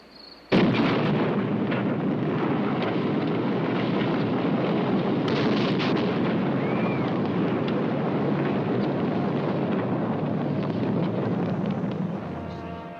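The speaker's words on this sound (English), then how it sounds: "scientists anxiously await the detonation of the world's first atomic weapon" The first atomic bomb test detonating in the New Mexico desert: a sudden huge blast followed by a long, sustained roaring rumble that fills the space and slowly tapers off near the end.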